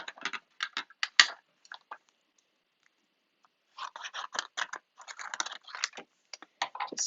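Paper is trimmed for a handmade card, with quick bursts of close, crisp scratchy cuts, a pause of near silence, then another run of rapid cutting strokes.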